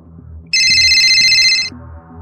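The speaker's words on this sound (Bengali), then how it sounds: "আমার মোবাইলটা বেজে উঠল" A mobile phone rings in an office with a bright electronic ringtone, one burst of tones lasting just over a second, clear and close over a low background murmur.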